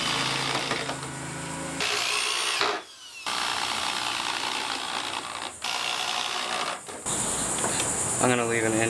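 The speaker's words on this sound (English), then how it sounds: "I'm going to drill a couple holes into them" A power drill whirs in several long bursts, revving and biting into wood dowels with short pauses between runs, close and loud.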